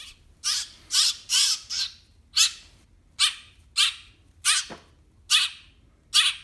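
A baby grackle squawks in about ten short, harsh bursts, spaced fairly evenly and close by, with near silence between the calls.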